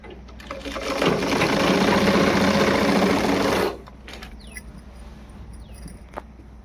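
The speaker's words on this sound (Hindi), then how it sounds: "अभी थोड़ा आगे तक और सिल लेते हैं।" A sewing machine stitching salwar fabric, a steady close whirring run of about three seconds that stops abruptly, followed by quiet room noise and a faint click.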